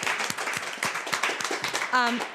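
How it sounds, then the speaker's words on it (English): An audience applauds steadily with overlapping claps throughout, and a brief voice rises near the end. "Applause, applause, applause, applause, applause."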